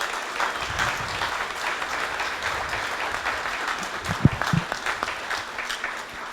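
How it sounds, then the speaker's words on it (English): A crowd at an outdoor airport groundbreaking ceremony for San Francisco International's Terminal 1 renovation claps in sustained applause, with a few louder, closer claps and thumps standing out near the end. "a warm round of applause in his final public appearance"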